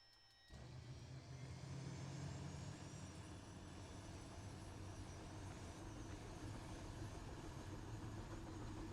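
Aircraft engine in the ARMA 3 military game starts abruptly and builds into a steady, rumbling whine with a faint high tone, holding at a constant moderate level without talk.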